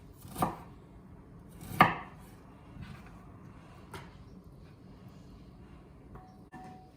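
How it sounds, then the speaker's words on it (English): An aromatic root, trimmed of its gnarly bits, sliced with a knife on a board for cola chicken: a few sharp, well-spaced chops standing out clearly from a quiet background. "We're just going to cut off the gnarly bits and then slice it."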